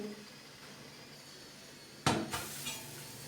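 A spoon scrapes and clinks against a pot on the stove while melting ingredients are stirred, a few sharp knocks after a quiet stretch of low sizzling background.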